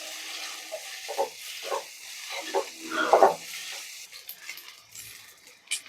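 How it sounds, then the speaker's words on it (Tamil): Small and large onions sauté in a pan for home-style Tamil fish gravy, with a series of soft scraping stirs and light sizzling over a quiet background, closer and louder near the middle. "சின்ன வெங்காயம் பெரிய வெங்காயம்லாம் நல்லா ரோஸ்ட் ஆகணும்."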